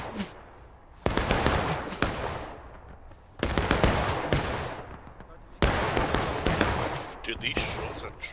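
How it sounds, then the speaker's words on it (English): Video game battle gunfire at Bloody Lane, with heavy bursts of rifle fire and shots whizzing past, loud and repeated in three waves, while players talk and shout orders over it. "these shots are trash, like they're just whizzing past us"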